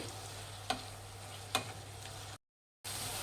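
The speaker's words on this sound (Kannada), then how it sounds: "ಮಿಕ್ಸ್ ಮಾಡಿ ಫ್ರೆಂಡ್ಸ್ ಈರುಳ್ಳಿ ಚೆನ್ನಾಗಿ ಬೇಯಬೇಕು" Onions fry and get mixed in a pan for citron rice, with a soft steady sizzle broken by two sharp spatula clicks and a short dead-silent gap near the end.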